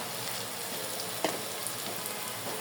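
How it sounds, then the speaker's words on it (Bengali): Onions frying in oil in a pan for a Padma river steamed hilish recipe, a soft continuous sizzle and crackle with a few small pops, fairly quiet and steady with no talking. "পেঁয়াজ একটু লাল লাল করে ভাজি করে নেবো"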